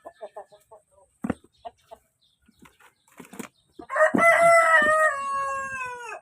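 Chickens cluck in short, soft bursts with a few wing flaps, then a rooster lets out a loud, close crow lasting about two seconds.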